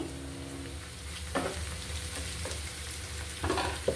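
Onions frying in oil until brown give off a steady, close sizzle, with two brief stirring scrapes breaking through.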